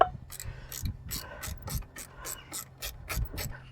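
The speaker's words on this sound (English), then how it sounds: "Ratchet spanners are the best investment ever" A ratchet spanner clicks in a rapid, uneven series of sharp ticks while turning brake caliper bolts on a Mazda MX5 NC, close and fairly quiet, with brief pauses between strokes.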